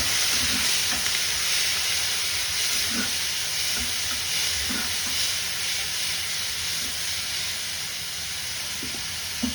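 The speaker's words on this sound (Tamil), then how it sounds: "இது வந்து நல்லா போட்டு வதக்கணும்." Steady loud sizzling of onion and tomato sautéing in a pan, continuous hiss with occasional soft stirring knocks, no talking.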